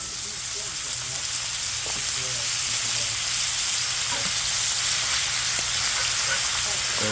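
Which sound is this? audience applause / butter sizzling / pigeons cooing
butter sizzling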